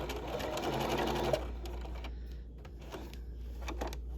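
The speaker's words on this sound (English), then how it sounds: "And now I can just start stitching." Sewing machine stitching a facing at a shoulder seam, a short burst of fast whirring needle motion that stops after about a second, followed by faint handling noises over a low steady hum.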